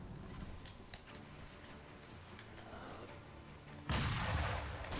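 Gunfire from an enemy in Sekiro: Shadows Die Twice: faint scattered cracks early on, then a single loud, sudden blast near the end that stays heavy for a moment.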